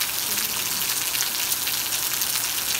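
Heavy rain pours down steadily in a rural canton in March, a dense unbroken hiss of drops on surfaces, loud and close with no pauses.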